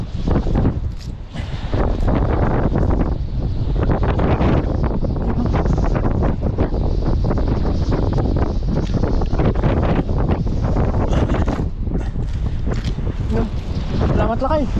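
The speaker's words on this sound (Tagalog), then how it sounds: "Lakas ng hangin." Strong wind roars across a fishing boat at sea, a steady, loud, rough buffeting that fills the whole stretch, with people talking underneath.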